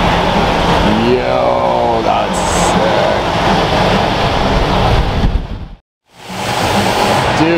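A Lamborghini Aventador S roars loudly nearby as a dense engine and exhaust rush, with a brief rising rev early on and a sudden moment of silence before the roar returns.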